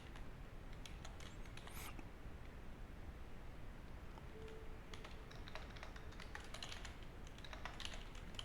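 Quiet, rapid clicking of a computer keyboard as someone types text for a React frontend form, steady irregular keystrokes close to the microphone over faint background hiss, with no speech.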